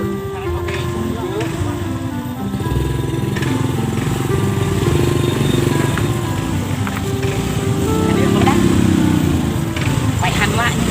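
A motorcycle engine runs loudly up close, its drone shifting in pitch as it revs, with people talking over it throughout.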